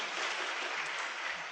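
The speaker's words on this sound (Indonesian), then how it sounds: "Tepuk tangan buat Bapak Ibu semua" Audience at an Indonesian seminar or motivational talk applauds, a brief steady wash of clapping at moderate distance with no voices over it.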